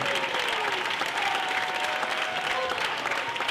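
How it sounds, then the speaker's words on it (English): An audience claps after a speech. A dense wash of sustained applause fills the whole stretch at an even, loud level, with faint crowd murmur beneath. "let's give Dr. Umar Johnson a round of applause."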